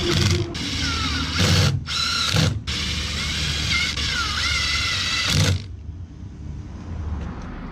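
A power drill driving screws into a wooden porch post whirs in several bursts, with short pauses between them, close by, then stops, leaving quiet room tone.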